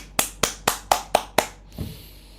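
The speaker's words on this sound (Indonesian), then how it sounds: "Tepuk tangan buat Daniel." Six sharp, evenly spaced claps sound close by, followed by a softer muffled thump, as brief applause for a speaker in an online church small-group meeting.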